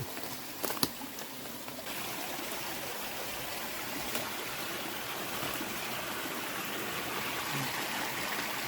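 A river stream flowing steadily during a long dry season, a constant broad rush of water close by with a brief louder splash near the start, no talking.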